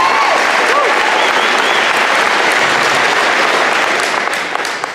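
Loud, dense applause and crowd noise from a debate audience, sustained for several seconds before starting to taper off near the end.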